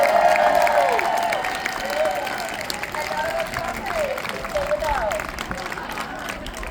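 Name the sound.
crowd applauding volunteers at a protest rally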